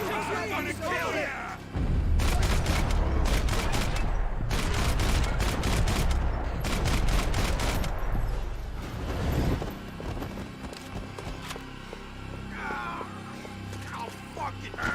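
Video game shooting fills the middle of the clip with dense, rapid bursts of gunfire and booms, then fades to quieter mechanical game sounds.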